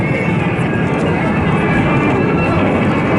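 A big Hercules transport aircraft at an airshow powering up and accelerating down the runway for takeoff, a loud continuous roaring engine drone that fills the clip without letting up.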